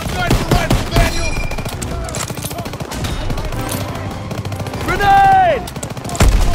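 Rapid bursts of machine-gun and rifle fire crackle through a World War II battlefield during Operation Cobra in a shooter game, with dense overlapping shots and a shouted voice briefly rising partway through.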